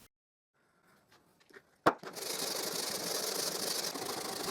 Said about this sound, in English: So now I sand both parts of the mallet.